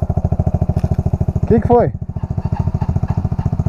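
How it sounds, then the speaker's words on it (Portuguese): Yamaha XTZ 125 trail motorcycle idles steadily up close with a fast, even engine pulse throughout, while a person speaks briefly over it midway. "Minha motinha, ó, dá pra ligar ela de boa, mas eu não vou desligar ela, não."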